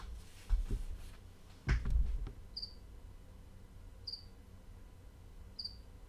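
A cricket chirps three times in short, evenly spaced bursts after a few dull knocks and thumps, each chirp brief, clear and moderately faint.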